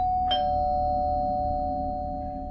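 A single electronic doorbell chime rings once and its tone lingers, fading slowly over a low background hum.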